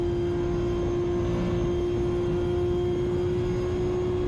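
A Ferrari engine in the Assetto Corsa racing game drones with a sustained jet-like whistle, a steady high tone over a constant low roar with no speech.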